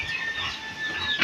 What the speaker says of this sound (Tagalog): Kakain na po ang baboy.